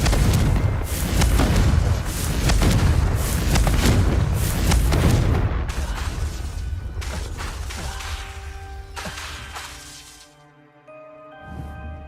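A Confringo blasting spell goes off in Hogwarts Legacy as a loud, rumbling explosion that roars for several seconds, then fades into a lingering tonal ring and softer magical shimmer.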